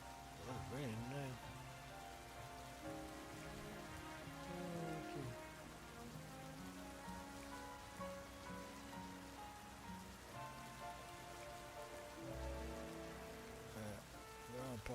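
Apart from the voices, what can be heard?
rain in the Pokemon Legends ZA video game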